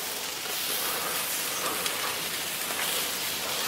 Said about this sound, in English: Oh, you can see the sizz. Little sizzle, baby.